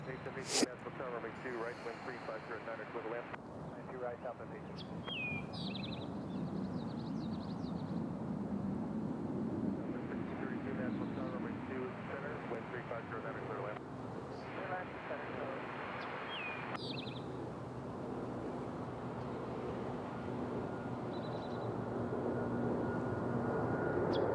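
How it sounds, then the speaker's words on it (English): An Aer Lingus airliner departs Nashville International Airport bound for Dublin, a distant, steady jet roar that builds slowly, faint and continuous under a voice. "here's Aer Lingus as they're headed back to Dublin"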